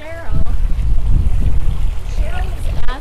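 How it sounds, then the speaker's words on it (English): Outdoor garden fountains at a garden center spraying and splashing water, a loud continuous wash of falling water close by with some wind noise. "having some water blowing out of my fountains here at Gertens"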